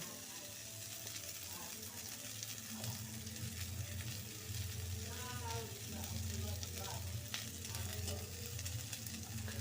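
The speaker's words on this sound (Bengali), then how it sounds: "ফুলকপি যখন ভাজবো তখন একটু হাই ফ্লেমে ভাজলে তেলটা কম কম টানে ভাজাও খুব ভালো হয়" Cauliflower, potato and lentil dumplings fry in hot oil over a high flame in a wok, a steady close sizzle with occasional stirring and light clinks throughout.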